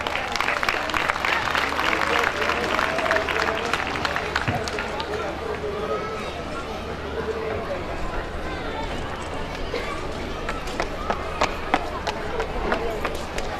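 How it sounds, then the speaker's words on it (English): A crowd claps steadily for over ten seconds, a dense continuous patter of applause with a murmur of voices underneath. "They deserve a loud applause."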